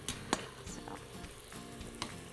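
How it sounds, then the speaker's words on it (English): Chicken pieces sauté in an Instant Pot, giving a faint, close sizzle with a few sharp scrapes and clinks from stirring. "So we just wanted to give them that flavor by sauteing them."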